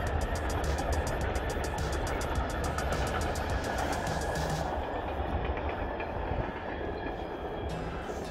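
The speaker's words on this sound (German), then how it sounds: "Und dann noch so ein langer Zug." A long train rolls past near Lake Biel, a loud, continuous rumble with rhythmic clattering wheels that holds steady for several seconds before thinning out as the last cars go by.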